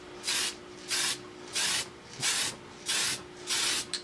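Six short, even bursts of aerosol primer spray hiss up close onto a plastic model starship kit in a steady rhythm, each lasting about a third of a second.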